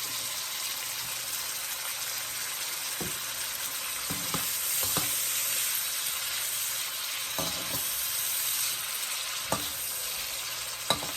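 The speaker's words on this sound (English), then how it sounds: "after we fry our vegetable, we're gonna fry our meat too" Vegetables fry in hot oil in a pan for traditional African pasta, a steady close sizzle with occasional stirring clatter and knocks over the top, no voices.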